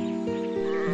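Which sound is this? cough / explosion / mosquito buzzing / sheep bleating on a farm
sheep bleating on a farm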